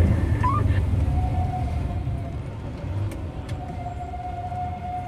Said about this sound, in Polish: Hamulce piszczą.